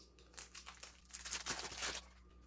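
A sheet torn off a small spiral notepad along its perforated line: a quick series of crisp paper rips and crinkles building over about a second and a half, close and clear with no talk.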